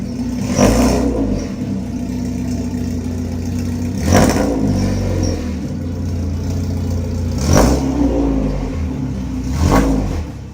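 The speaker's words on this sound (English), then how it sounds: "I'm gonna pull the car back into the garage, get it jacked up" Car engine idling in a garage during shift linkage work, rising in four spaced revs over a steady mechanical whir and clatter, close and fairly loud.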